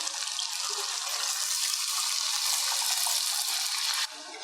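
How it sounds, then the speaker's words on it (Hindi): Water poured into frying chicken korma gives a steady, close, bright hiss and splash lasting several seconds, easing off slightly near the end; no one speaks. "अब हम इसमें 1 कप पानी डालेंगे।"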